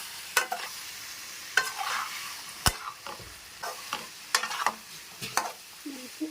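A ladle slowly stirs egg masala in an aluminium pan, with repeated scraping clinks against the metal over a soft steady sizzle, no voices.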